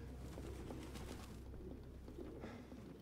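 Pigeons cooing in a dim, filthy room in Detroit: Become Human, soft repeated coos from several birds close together, faint and continuous over low ambient hum.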